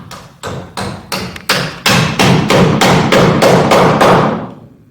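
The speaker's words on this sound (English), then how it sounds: "I'm just going to put 2 galvanized nails in it" Galvanized nails hammered into a slanted wooden base plate of a homemade greenhouse, about a dozen sharp, close hammer blows in a steady rhythm that speeds up and grows louder, ending with a brief ringing decay.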